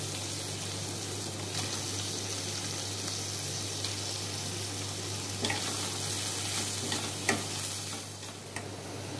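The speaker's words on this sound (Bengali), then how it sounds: "দিয়ে সয়াবিনগুলো ফ্রাই করে নেব" Soybean chunks fry in a pan with a steady, close sizzle and hiss, broken by a few sharp clinks and scrapes of stirring toward the end; no one speaks.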